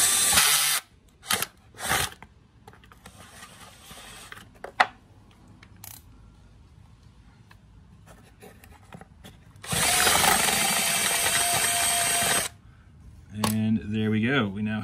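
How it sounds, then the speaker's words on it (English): Power drill pushing a 10 mm bit through material for a Porsche Boxster 986 or 911 996 shifter fitting, in short bursts with a longer whining run near the end, amid handling noise and talk. "we have a 10 mil bit, and we're just going to put it through"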